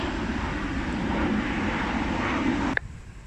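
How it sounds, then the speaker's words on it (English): An airplane passes low overhead near an airport by the beach in Cairns, producing a loud, steady broadband roar that fills the scene and then cuts off abruptly near the end. "we have a plane going over"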